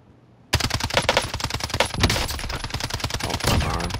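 Rapid automatic gunfire in Call of Duty: Warzone solos battle royale, a dense burst of loud, closely spaced shots starting abruptly after a brief quiet moment and continuing steadily to the end.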